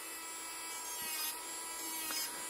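An electric nail sander (ponceuse à ongles) files a fingernail with a steady high whirring hiss and faint scraping, sounding close and continuous with slight swells in intensity, with no talk over it.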